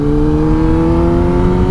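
A 2017 Kawasaki ZX10R sport motorcycle engine holds a loud, steady drone with a slowly rising pitch, heard close and with no talk over it.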